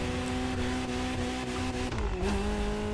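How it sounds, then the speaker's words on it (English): Ferrari 308 GTS engine in The Crew Motorfest racing game, a steady droning engine note held near and loud, then a quick gear change dips the pitch before it pulls again. "I love the exhaust sound on this vehicle."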